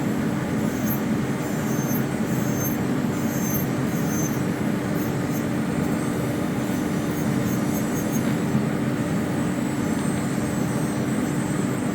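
Fusion portable manicure and pedicure dust extractor running, a steady, loud motor hum with a constant airy whoosh that holds evenly throughout.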